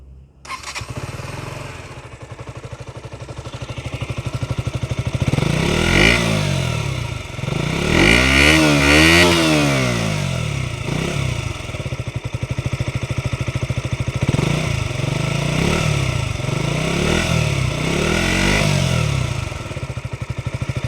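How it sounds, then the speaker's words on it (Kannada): A KTM RC125 motorcycle with a four-valve head runs close by, its exhaust note rising and falling through repeated throttle blips and revs over a steady idle, loud and continuous with no talk. "Exhaust note."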